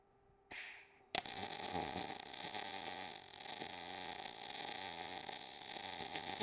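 MIG welding on eighth-inch steel with a Thunder 255 MTS welder, drag and push technique, giving a steady crisp crackling hiss that starts abruptly after a brief burst and runs continuously, loud and close.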